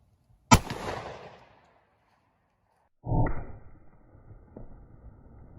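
A single sharp gunshot from an XDM pistol with a 4.5 inch barrel firing a 165 grain V-Crown round into ballistics gel, with a loud crack and a fading tail, followed a few seconds later by a second impact-like burst and rumble.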